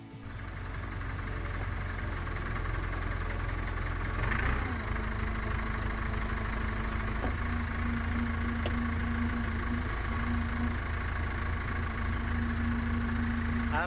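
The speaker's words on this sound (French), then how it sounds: "J'ai appris à conduire un tracteur récemment." Tractor engine idling on an educational farm, a steady low rumbling drone with a brief shift partway through, continuing evenly and fairly close, with no talk.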